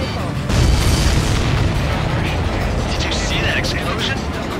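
A missile strikes an enemy supply ship in Ace Combat 7, setting off a heavy booming explosion that swells abruptly and then rolls on as a dense roar over steady jet noise.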